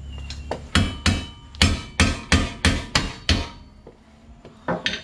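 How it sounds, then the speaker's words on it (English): Repeated hammer blows on a castle nut to drive down the left driver-side CV axle of a 2006-2012 Ford Fusion, about eight sharp metallic strikes in steady rhythm, close and loud, then a pause and a couple of lighter taps. "what I'm going to do is hit that with a hammer, and we should be able to knock this right down."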